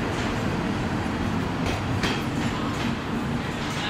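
A train bound for Brașov, Romania rumbles steadily past on the rails, loud and continuous, with rhythmic clacking of wheels over the track joints.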